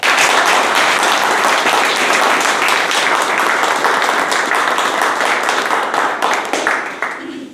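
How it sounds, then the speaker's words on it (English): A big round of applause for the evaluators at a Toastmasters meeting, a dense, loud wash of many hands clapping together that holds steady for several seconds, then thins and tapers off at the end. "Let's give a big round of applause for all our evaluators."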